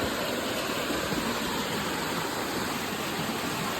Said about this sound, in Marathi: बघा केवढा मोठा पाणी इलेला असा.